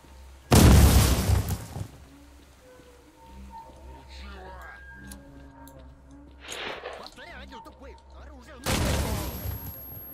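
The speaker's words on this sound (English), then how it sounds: "I keep blowing myself up with grenades here." Grenades blasting in the game Stalker: The Way to Pripyat, two loud, close booms several seconds apart with lingering rumble, and quieter sounds and faint voice-like tones between them.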